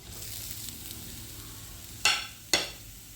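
Chopped beetroot being stirred in a hot pan for Kerala thoran, a soft continuous sizzle broken by two sharp scraping strokes near the end.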